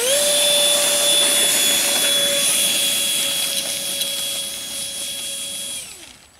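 A 70mm electric ducted fan on an F-117 stealth RC model jet with a 4S battery screams at full throttle as a loud, steady high-pitched whine, then spools down and cuts off near the end, with no talk.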